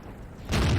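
An Indien-Panzer tier 8 medium tank fires its cannon in World of Tanks: one sudden, heavy boom that bursts in after a low rumble of background noise.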